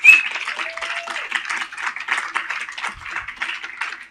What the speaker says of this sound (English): A round of applause for our fantastic ladies